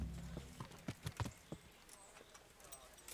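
Horse hooves in the medieval game Kingdom Come: Deliverance, a brief run of clip-clop footfalls, soft and uneven, with faint ambient game sound underneath.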